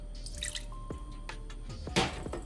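About an eighth of a cup of water goes into raspberry fruit spread for a rib glaze, giving a few quiet, close drips and small splashes over a faint background.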